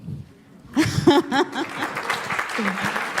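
A voice speaks briefly, then audience applause for a trainer swells at a morning round-table conference and continues as a dense wash of clapping beneath scattered voices.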